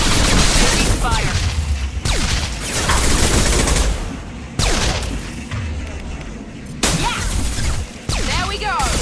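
Mass Effect Legendary Edition combat gunfire: loud, close bursts of rapid shots broken by sharp cuts and impacts, with spoken voices woven through the action.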